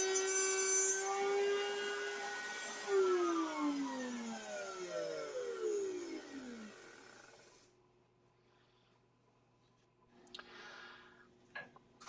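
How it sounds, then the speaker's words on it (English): A woodworking router spins down after being shut off, its whine sliding steadily lower in pitch over several seconds until it fades out, followed by quiet shop handling noises. "shut the router off and wait for it to quit spinning before removing that piece"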